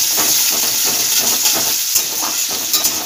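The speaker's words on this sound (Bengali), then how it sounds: "সেই পেঁয়াজটা দিয়ে ভেজে নেব।" A medium onion, finely chopped, fries in oil for a vegetable mung dal, giving a continuous close hissing sizzle with soft rhythmic stirring scrapes and a couple of sharper pan knocks near the end.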